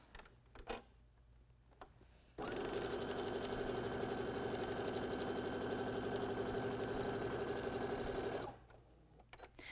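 A sewing machine stitches quilt charm squares together, running in a steady rapid whir for about six seconds between quiet pauses, close and alone.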